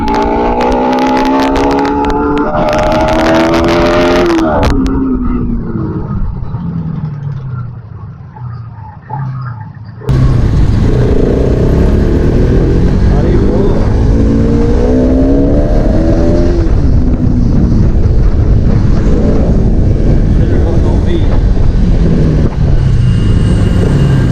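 A Bajaj Pulsar RS200 motorcycle revs hard and rushes past in a loud flyby, its engine note rising through the gears, briefly dropping away, then roaring back close with heavy wind noise and no clear speech.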